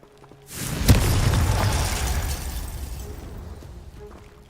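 A Confringo blasting spell explodes in Hogwarts Legacy, one sharp loud blast with a burst of debris that rumbles and fades over a few seconds, heard alone.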